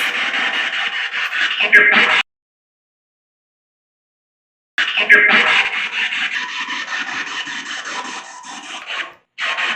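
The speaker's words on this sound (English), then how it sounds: "each one of those sounds is a different frequency, it's a different station." Harsh sweeping radio static from a spirit box scanning through stations, with choppy bursts of noise, cutting out completely for a few seconds before the scanning hiss returns.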